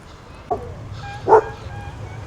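Dogs barking outdoors on a street in Durrës, Albania: two short barks, the second louder, heard at moderate distance over a low background hum.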